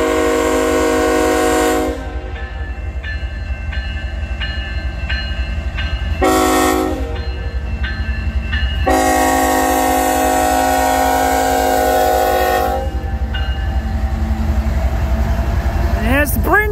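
CN freight train 3912 passing near Ladysmith at night: a heavy continuous rumble of rolling wagons with several long, loud multi-tone horn blasts, one short and others sustained, plus voices talking over the noise.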